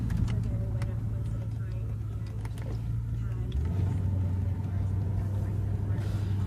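Lincoln Town Car with an R12 air-conditioning retrofit idling, a steady low engine hum with a slight pitch shift midway, running under a voice as he talks.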